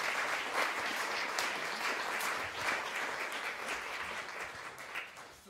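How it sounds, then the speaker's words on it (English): An audience at a morning conference session on obesity applauds its speakers, with sustained, dense clapping from a roomful of people that holds steady throughout, with no one speaking over it. "I'd like to just finish the session with a big round of applause for all our speakers."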